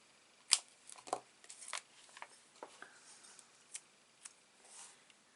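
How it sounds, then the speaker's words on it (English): Scissors snipping paper for a Stampin' Up! handmade card: a quiet run of small, crisp, close snips and light paper rustles, unevenly spaced, with no talking. "maybe I'll just snip that there"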